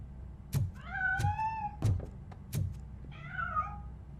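Several cat meows in the RoboCop: Rogue City video game, rising harmonic cries spaced over a few seconds, mixed with low dull thumps, fairly close and clear with no talking.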